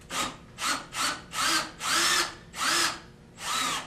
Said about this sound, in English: You should be able to put your drill in reverse and take it right out